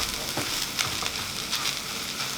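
Eggs frying on a stove for ugali mayai, a steady close sizzle with faint scraping stirs running throughout, no talk.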